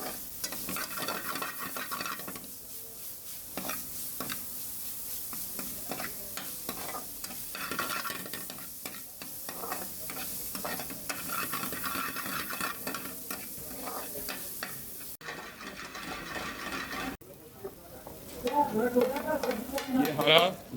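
Chicken samosa filling stirred in a pan, continuous sizzling with repeated spoon scrapes and stirring strokes throughout, growing busier and louder near the end.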